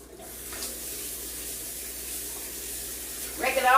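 Running tap water rinses a dish in a kitchen sink, a steady soft splash that swells near the end with a brief louder spray.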